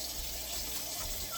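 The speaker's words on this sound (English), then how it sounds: "So I'm going to wash this bowl out." Tap water gushes steadily into a bowl in a kitchen sink, a close, continuous splashing rush without a break, as the bowl is washed out.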